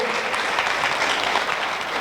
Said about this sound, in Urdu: ان چاروں کے لیے بھی تالیاں بہت ساری